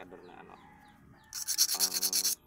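A metal scraper rasps along an etak machete blade from Leyte, a single loud burst of rapid rough scraping strokes after a quiet stretch of faint background noise.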